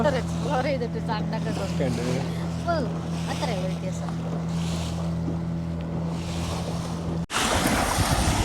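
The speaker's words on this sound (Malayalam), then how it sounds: "ഇവര് ബോട്ട് എടുത്തിട്ട് വരും" A motorboat engine drones steadily on the open sea in Lakshadweep while people talk over it, then a sudden rush of wind and spray takes over near the end.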